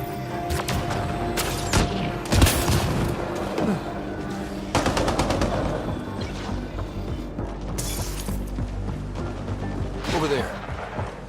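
Gunfire in the Mass Effect: Andromeda video game: rapid bursts of automatic weapon fire and sharp shots crackle loudly throughout, mixed with impacts and game effects.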